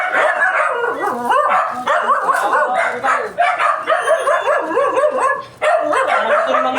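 Several dogs bark and yip in a loud, overlapping chorus close by, continuous excited barking filling the whole stretch with brief dips between bursts.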